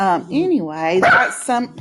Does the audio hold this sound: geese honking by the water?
no